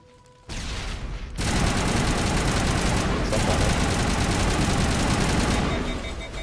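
Sustained heavy gunfire in Mass Effect as the squad shoots at Krogans, a dense roar of rapid shots that kicks in after a brief quieter moment and stays loud and continuous to the end.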